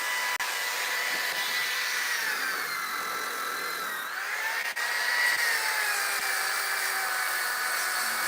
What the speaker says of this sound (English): That sander right there is one of my favorite tools.